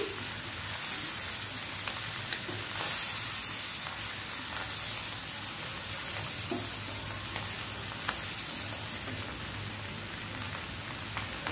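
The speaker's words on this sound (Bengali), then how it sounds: "চিংড়ি মাছটা খুব ভালোভাবে একটু বেজে নিচ্ছি" Shrimp with a pinch of turmeric fries in a pan, giving a continuous crackling sizzle like light rain on a surface, with faint stirring scrapes and small pops throughout.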